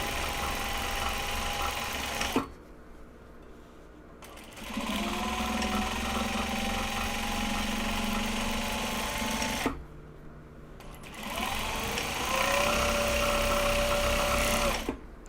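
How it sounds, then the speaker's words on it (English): A sewing machine stitches handles onto large box bags in bursts, a steady whirring motor with a rising whine that runs for a few seconds, pauses, then starts again, close and loud with no talking. "So enjoy some sewing machine ASMR for a few minutes, I guess."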